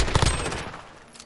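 Rapid automatic gunfire strafes during a video game firefight, a loud, dense burst of shots rattling at close range that trails off over about a second, with no talk.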